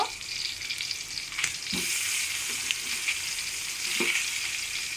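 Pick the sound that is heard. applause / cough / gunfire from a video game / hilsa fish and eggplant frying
hilsa fish and eggplant frying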